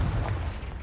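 A Confringo fire spell blast in Hogwarts Legacy, a short deep booming burst that fades quickly, heard alone without talk.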